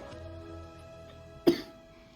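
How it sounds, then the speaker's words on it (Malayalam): A single short, sharp cough from someone speaking indoors, standing out briefly against a faint, quiet background hum. "എപ്പോഴും ചുമ വരുക സംസാരിക്കുമ്പോൾ"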